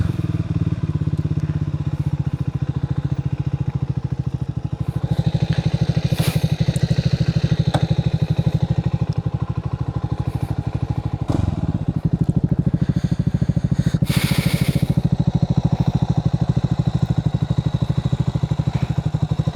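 A Triumph Speed 400 motorcycle engine drones steadily throughout the ride, loud and close, with a couple of brief clattering bursts partway through.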